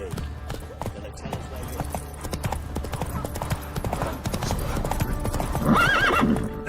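Roach, a horse in The Witcher 3: Wild Hunt, gallops with steady rhythmic clip-clop hoofbeats, close and fairly loud over game music, and near the end it gives a brief neigh.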